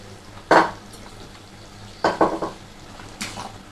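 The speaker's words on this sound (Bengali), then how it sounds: "দেখো এখানে রয়েছে আমার সেই ভেজে রাখা চিনে বাদাম, এবার এটা করব কি, আমি এর মধ্যে পুরো মিশিয়ে দেবো।" A spoon scrapes and clatters in a pan as fried peanuts are stirred into a Bengali-style vegetarian potato curry, with three separate bursts of stirring, the middle one a quick run of clinks, close and moderately loud with no talk.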